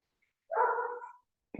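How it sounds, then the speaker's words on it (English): A single dog bark, clear and moderately close, sounds in an otherwise quiet setting, and a second short bark begins just as the moment ends. "there's a single dog bark followed by another"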